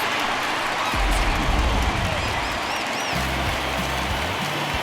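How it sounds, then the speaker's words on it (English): A home stadium crowd in the baseball video game MLB The Show 20 roars and cheers steadily through the whole moment, a dense, loud wash of noise with low broadcast-style tones underneath. "No better way to get the home crowd into it right out of the gates."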